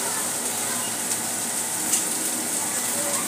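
Finely chopped capsicum sautéing in a pan for Schezwan fried rice, with a steady hiss and sizzle plus a few stirring scrapes, while a voice talks.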